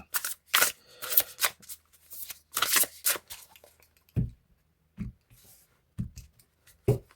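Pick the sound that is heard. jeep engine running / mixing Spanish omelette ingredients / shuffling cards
shuffling cards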